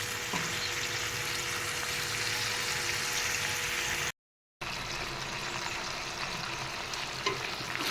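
Ridge gourd and fish curry cooking on a gas stove as its water boils off: a constant, even sizzle and bubbling hiss, close and moderately loud, broken once by a brief silent gap.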